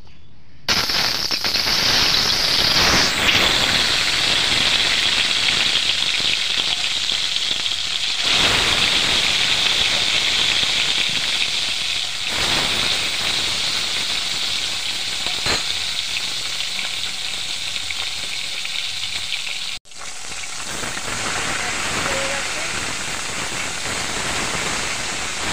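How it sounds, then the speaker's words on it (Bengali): Katla fish pieces fry in hot oil with a steady, dense sizzle and crackle that runs close and loud throughout, with a brief dip near the end and no voices. "তেল গরম হয়ে গেছে, আমি মাছ দিয়ে দেবো তেলে।"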